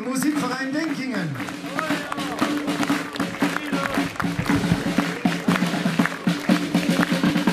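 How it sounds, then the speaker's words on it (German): Crowd applause and scattered clapping for the Musikverein Dinkingen marching band at an outdoor festival parade in Hohentengen, steady and fairly loud, with brass band tones and crowd voices underneath throughout. "Einen herzlichen Applaus dem Musikverein Dinkingen."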